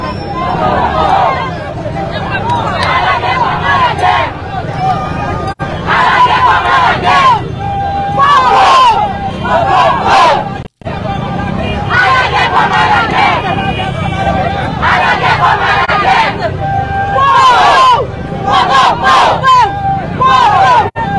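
A large crowd on the move toward Canaran, a loud, dense roar of shouting voices and babble with surging cries, continuous apart from brief cutoffs.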